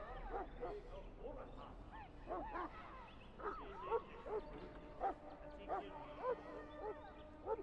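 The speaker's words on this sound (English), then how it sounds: "I fear your hound has the kitchens in uproar once again." A Mabari hound in the Dragon Age video game barks and yips faintly in the background, a scattered run of short barks over a low murmur with indistinct voices.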